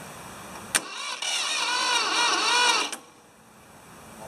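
The starter on a Ford 2600 tractor cranks, and the diesel engine catches and runs briefly before dropping back to a quieter idle. It sounds close and loud with no talking.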